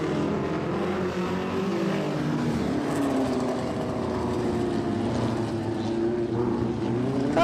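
A vintage speedway midget car on a demonstration run at Archerfield Speedway, its engine droning steadily at mid-distance with a faint rising and falling pitch, under crowd and track ambience and no speech.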